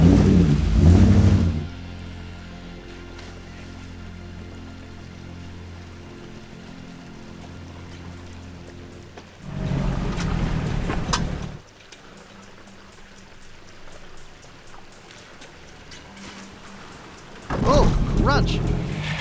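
A Toyota Prado 4WD pushes through deep water with its exhaust submerged, giving a gurgling, bubbling burble like a speedboat that rises in three loud bursts between quieter stretches, with talk nearby.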